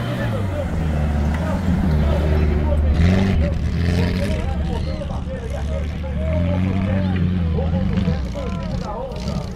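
A jeep engine revs and accelerates at a drag race event, roaring loudly with rising and falling pitch while an announcer talks over it and a crowd murmurs in the background.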